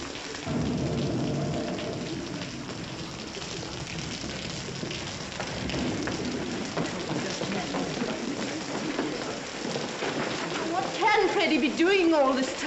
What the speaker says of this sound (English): Looks like rain.